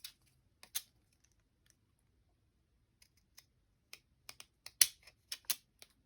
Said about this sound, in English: sometimes these kind of scissors do not work well